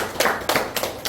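A lecture audience gives a few sparse, evenly spaced claps, about four sharp bursts in just over a second, fairly close and with no talking.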